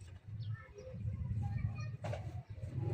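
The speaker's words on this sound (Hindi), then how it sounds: "ये तो कबूतर थे" Pigeons kept at a pigeon shop coo in soft, repeated low murmurs, fairly close, with faint higher bird chirps scattered over the top and no talk.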